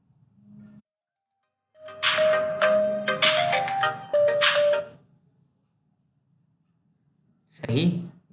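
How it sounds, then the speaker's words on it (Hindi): A mobile phone ringtone for an incoming call chimes in short melodic bursts, loud and close, with a brief pause before it sounds again near the end. "ज़रा फ़ोन आ रहा है।"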